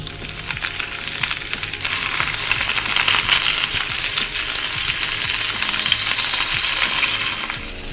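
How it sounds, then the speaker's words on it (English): Pork belly searing fat-side down in a hot pan for Japanese braised kakuni: a steady, loud, crackling sizzle runs throughout with scattered pops, swelling slightly after the first second and holding without talk. "I seared the pork belly all sizes, so it looks so delicious."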